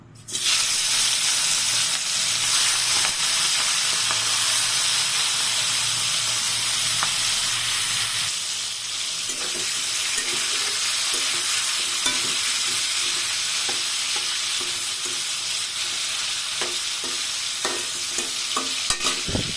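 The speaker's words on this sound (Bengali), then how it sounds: "তেল গরম হয়ে এসেছে এখন আমি মাছগুলো ভেজে নেব" Turmeric-and-salt-coated prawns fry in hot oil, giving a loud, steady, close sizzle throughout that thins a little about halfway, with occasional soft clicks of stirring.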